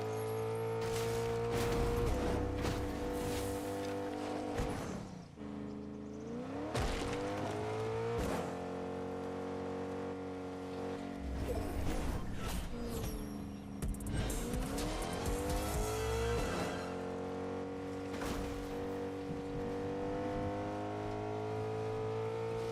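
A van or truck in a video game drives with a loud engine that revs up and down in repeated rising and falling sweeps, with tire squeals and skids, steady and close with no talk.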